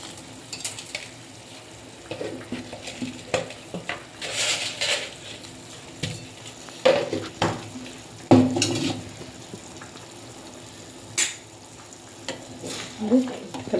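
Egg masala stirred in a pan on the stove, with scattered scraping and clinking strokes of a spoon against metal over a low sizzle, irregular and close, the stirring coming in bursts with pauses between.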